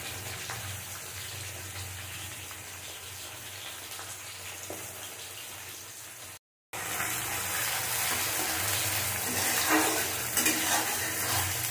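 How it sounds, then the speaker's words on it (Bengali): Potatoes and chopped onion fry together in oil, a continuous broadband sizzle that cuts out for a moment, then returns louder with occasional spatula scrapes, no voices. "আলু পেঁয়াজ ভালো করে আমি কষিয়ে নেব, যতক্ষণ না পেঁয়াজের কালারটা চেঞ্জ হচ্ছে।"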